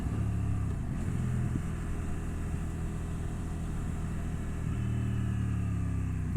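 A CFMOTO 800NK naked middleweight motorcycle rides in rain mode on a wet road, its engine a steady low drone with a gear-change dip partway through, wind and road noise running beneath.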